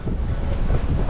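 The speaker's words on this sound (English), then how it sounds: "This is a very very windy day today guys. It's really really windy." Strong wind buffets the microphone in Blackpool town centre as a loud, constant low roar with gusty surges that lasts a little over a second, with no voices.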